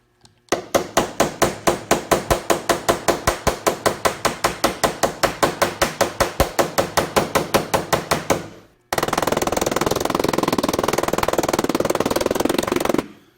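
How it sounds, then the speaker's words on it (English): Rapid, evenly spaced metallic taps of an aluminum hammer on a car body dent ring out for several seconds, then give way to a dense, continuous hammering clatter. "We're going to go to our aluminum hammer."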